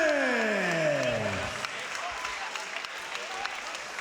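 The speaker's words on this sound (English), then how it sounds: "Applause going for Jakub Benko, ladies and gentlemen." Crowd applause after a unanimous-decision result at a Muay Thai event, a steady wash of clapping that continues as a descending announcer-style electronic sweep fades out at the start.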